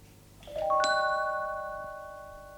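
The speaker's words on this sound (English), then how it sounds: "let her ring the blessed bell if she wants to" A single bell is struck once, ringing out clear and close, its bright tone sustaining and slowly fading over a couple of seconds with no voices.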